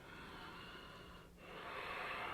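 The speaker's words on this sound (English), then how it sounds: "Deep breathing here." Slow, deep breathing during a yoga leg-extension session, a steady airy hiss of inhales and exhales close to the microphone, with a brief pause midway before a fuller breath.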